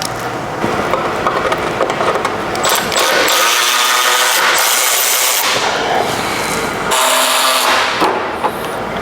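Mechanic's hand tools at work removing 10 mm bolts from the wheel well of a BMW E34 M5 bumper, loud close clattering and ratcheting bursts with brief gaps, alone without talk.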